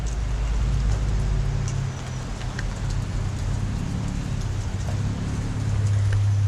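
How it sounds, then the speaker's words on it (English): Steady rain falls outdoors on a Tennessee Jeep trail near an abandoned train tunnel, a dense continuous hiss with a low rumbling undertone and scattered drop ticks, no voices. "Are you getting rained on?"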